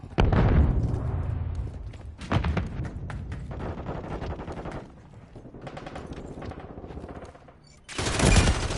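Modern Warfare 3 gameplay with sustained automatic gunfire rattling in dense bursts, punctuated by heavy grenade blasts, loud and continuous with brief lulls between volleys.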